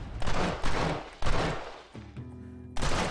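Video game gunfire rings out as loud, close single-shot blasts, three heavy reports with decaying tails, then a brief tonal in-game sound before another shot.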